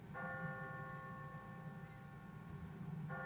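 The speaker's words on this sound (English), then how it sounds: "What kind of church bell goes off at 20 past the hour?" Church bell tolling in The Walking Dead video game, a sustained ringing tone that holds steady and fades slightly, then strikes again near the end, heard faintly over low background rumble.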